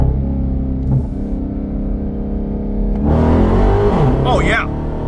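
A Mickey Thompson Street SS tire on a car rolls along a road at about 40 mph, a steady close drone of engine and road noise with someone talking over it.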